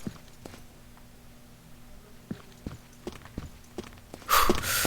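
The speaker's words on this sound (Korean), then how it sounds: "가는 척 하면서 이렇게 뒤로 가서 발소리 들리니까" Scattered footsteps in a hide-and-seek style video game, soft irregular thuds over a quiet background, ending in a louder burst of noise.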